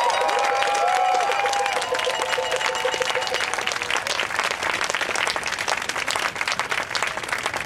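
Sustained applause from an outdoor rally crowd against mining on Anishinaabe territory, a dense steady wash of clapping with a few whistles near the start.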